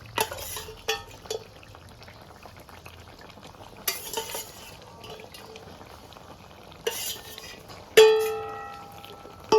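Morola fish goes into a pan of bubbling potato and ladyfinger curry, with soft stirring and simmering, a few clinks of a utensil against the pan, and a louder metallic scrape near the end.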